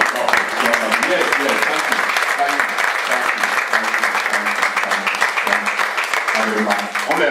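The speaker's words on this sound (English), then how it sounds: "So shall we rise to put our hands together for God?" Sustained applause from an audience at a formal dinner party honouring a barrister, steady and dense clapping throughout with a faint murmur of voices underneath.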